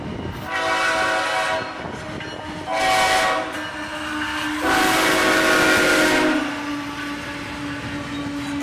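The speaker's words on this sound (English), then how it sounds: "A single ES44AH leading a big southbound intermodal train." A southbound intermodal freight train led by a single ES44AH locomotive passes with loud, repeated horn blasts over a rumbling, clattering roll of railcars, the horn sounding in several long bursts.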